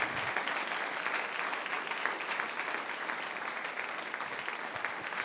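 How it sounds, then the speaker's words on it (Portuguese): A church congregation applauds loudly in a large worship hall, a dense, continuous wash of many clapping hands that stays even and sustained for over five seconds without pause. "Quem crê, glorifica e aplauda forte esse nome que é santo."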